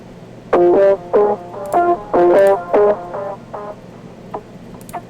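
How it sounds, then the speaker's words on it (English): A distorted electric guitar with heavy diode distortion and a sweeping phaser effect plays short chords and single notes in bursts, alone and fairly loud. "So a ton of diode distortion, and then the phaser in combination"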